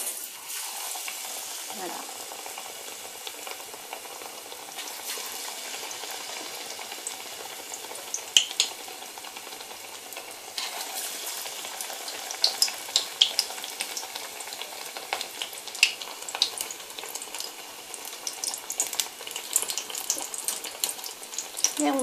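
Onion and potato fritters (badji) fry in hot oil with a steady, hissing sizzle and scattered pops. The sound stays even throughout, with a brief spoken word near the start.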